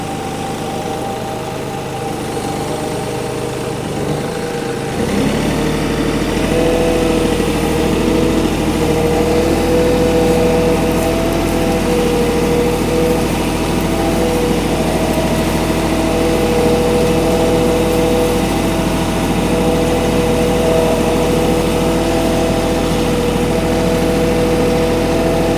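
A tractor engine runs steadily and loudly throughout while a grapple lifts logs near its capacity, with a low rumbling drone and a shift in load after a few seconds, no voices present.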